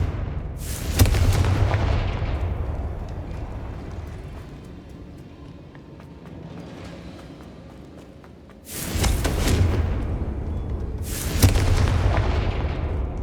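Confringo fire-spell blasts in Hogwarts Legacy, three heavy booming explosions, each a sharp loud burst trailing into a long rumbling decay, with a fainter rumble between them.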